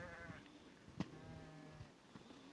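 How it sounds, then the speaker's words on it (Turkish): Hungry sheep bleat repeatedly on a snowy morning during lambing season, several overlapping wavering calls close by, with a sharp knock partway through and faint background noise. "Koyunlar da acıkmış. Daha bağırıyor artık."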